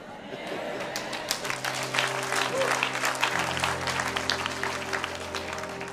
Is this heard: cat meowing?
no